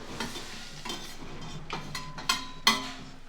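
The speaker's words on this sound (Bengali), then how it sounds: "গ্যাসের ফ্লেমটা আবারও হাইতে করে ভালোভাবে 5 ফোড়নের সঙ্গে আলুটাকে মেশাবো" Fried potatoes tossed with panch phoron in a hot pan, a series of spoon scrapes and clinks against the metal over a low sizzle, with no one talking.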